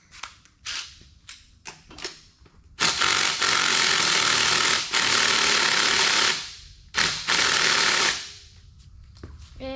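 A cordless impact wrench rattles in short bursts, then runs in long sustained hammering stretches before cutting out, loud and close while loosening fasteners.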